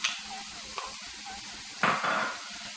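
Zucchini with yellow squash and peppers cooking in a pan for a vegan wild rice dish, a soft steady sizzle with a few faint stirring scrapes and one brief louder clatter near the end.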